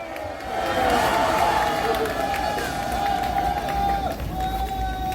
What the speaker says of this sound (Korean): 여러분 힘찬 함성 박수 모시겠습니다.